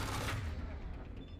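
Carnage weapon firing in Mass Effect 3, a loud, dense burst of heavy gunfire with booming low end that fades into a decaying rumble.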